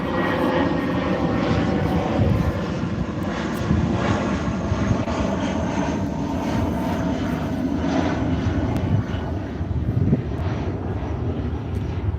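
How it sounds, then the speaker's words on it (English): An airplane passing overhead gives a steady, loud, broadband engine roar that fills the whole stretch, with no talking over it. "let this plane pass on"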